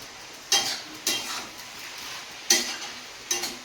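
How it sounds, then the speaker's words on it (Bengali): Greens frying in a pan on a home stove, a soft continuous sizzle broken by four sharp scraping stirs of a spatula at irregular intervals, close by with no talking. "শাক ভাজা আজকে দারুণ হচ্ছে কিন্তু সব রকম দিয়ে"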